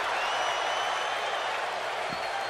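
A crowd in a WWE 2K17 wrestling arena keeps up a steady, loud wash of cheering and applause while waiting for a championship match.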